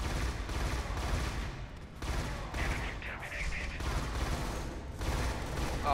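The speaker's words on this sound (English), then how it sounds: "Shoot Ambrosia." Bursts of gunfire from the shooter video game Scourge: Outbreak, dense and continuous, with repeated volleys of shots rolling through the scene at a steady loud level.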